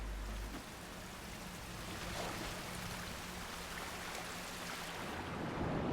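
A waterfall in the video game Darksiders 2 gives a steady, broad rushing hiss of falling water, moderately loud and continuous, with no other sounds over it.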